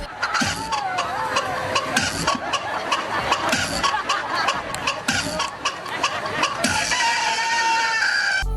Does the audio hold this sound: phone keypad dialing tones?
no